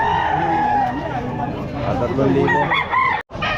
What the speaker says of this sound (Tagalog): Ayan, maraming manok dito.